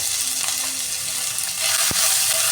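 Ginger and garlic dropped into hot oil with coconut and shallots in a pan for beef curry, a close steady crackling sizzle with a brief stirring scrape, no talk.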